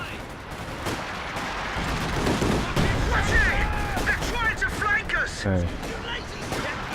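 Artillery shells firing and landing in the strategy game Company of Heroes, a run of booming impacts and gunfire layered with battle noise, with someone talking over the action.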